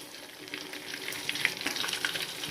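Whole spices with shahjeera fry in oil in a pot for biryani rice, a soft, steady crackling sizzle with light stirring and no voices.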